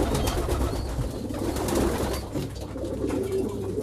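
Meat-breed pigeons coo steadily in a loft, a dense, continuous low murmur of cooing from several birds with no talking.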